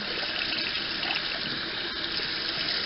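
Tap water runs in a steady, even stream onto a makeup brush and a bar of Ivory soap held beneath it, a close, continuous splashing hiss with no voices.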